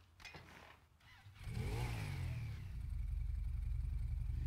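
Honda CBX 250 Twister motorcycle engine in GTA V, starting with a few faint knocks before the engine catches and revs up, then settling into a steady, loud, close idle rumble.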